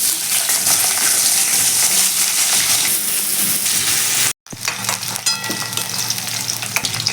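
Potatoes fry in mustard oil in a wok with a steady, bright sizzle. A brief silence breaks it near the end before the crackling frying returns, with faint clinks and stirring on top.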